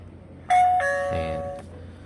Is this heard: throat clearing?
no